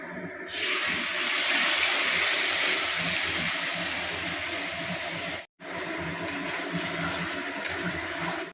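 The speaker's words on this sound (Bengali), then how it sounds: "এবার এই তেলের মধ্যে দিয়ে দিচ্ছি একখানা তেজপাতা আর এই ম্যারিনেট করা মাংস" Bay leaf and marinated meat frying in hot oil, a loud, steady broadband sizzle that starts abruptly, breaks off for a moment and then carries on just as strongly.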